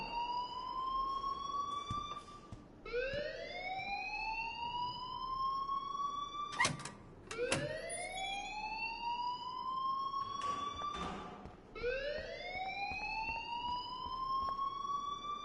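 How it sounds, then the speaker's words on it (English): A wailing alarm siren from the video game Life is Strange, set in a school, rises and falls in repeated sweeping cycles, loud and continuous, with sharp bangs and clatter cutting in a few times. "please turn off that alarm since that's your job"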